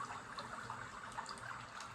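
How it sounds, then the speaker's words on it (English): In the Seers Isle video game, a stream runs steadily with a soft, continuous trickling and rushing wash, faint and even, with no voices. "They continue their walk, reinvigorated by the sound of running water."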